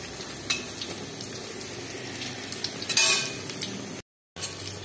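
Eggplant slices and fritters fry in hot oil, giving a steady close sizzle broken by a few light clinks of a utensil and a louder spatter burst before a short cut.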